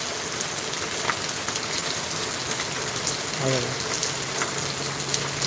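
Heavy monsoon rain pours in a dense, steady, loud hiss that fills the whole stretch, with a brief low voice murmuring under it.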